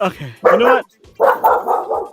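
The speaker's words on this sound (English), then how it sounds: "That was my dog." A pet dog barks loudly and close by in a home, giving several quick yelping barks in two bursts, with someone speaking between them.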